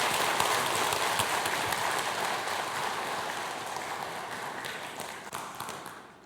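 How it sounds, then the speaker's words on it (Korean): A church congregation at a Sunday service applauds after a baptism, a dense wash of many hands clapping that holds steady and then slowly fades. "큰 박수 부탁합니다."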